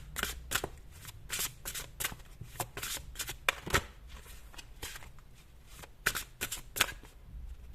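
Tarot cards are shuffled by hand in quick riffling bursts and soft slaps, close and quiet, with a brief pause midway before more shuffling.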